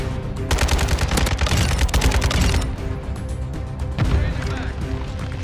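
Rapid automatic gunfire from a Kastov 762 rifle in Modern Warfare 2, dense bursts of loud close shots with a pause and then more fire, and a voice talking over the shooting.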